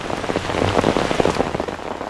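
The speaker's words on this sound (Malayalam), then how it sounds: "മഴയുടെ ഒരു കാര്യം" Heavy rain pours down in a dense, continuous wash of drops, loud and close, with no voices.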